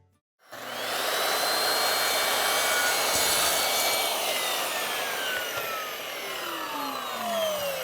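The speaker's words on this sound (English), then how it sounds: "First, let's take a look at cutting siding and trim." A power saw cuts James Hardie fiber cement siding, starting abruptly after a moment of silence and then grinding on as a loud, continuous, harsh whine with a rough, gritty edge until the end.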